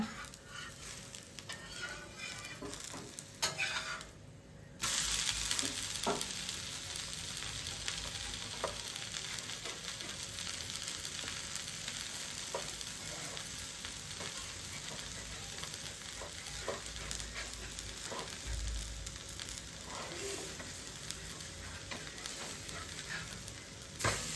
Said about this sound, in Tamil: ஊத்தாப்பத்துக்கு எண்ணெய் ஊற்றிக்கலாங்க ஊத்தாப்பம் திருப்பி போடலாங்க